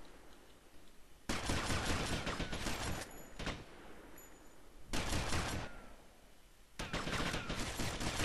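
Three long bursts of rapid automatic gunfire ring out in Grand Theft Auto Vice City, separated by quieter gaps with a couple of sharp single shots.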